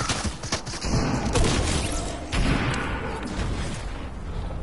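Rapid gunfire bursts from a PS4 shooter video game fill the clip, a dense, continuous stream of shots and booms with no clear pauses.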